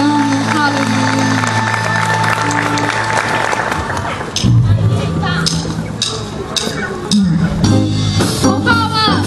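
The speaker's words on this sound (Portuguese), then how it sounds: "Dê uma salva de palmas para o nosso grande Rei e soberano." A church congregation claps together in a burst of rhythmic applause while music plays, with a voice calling out above it and the clapping coming back strongly after a short lull.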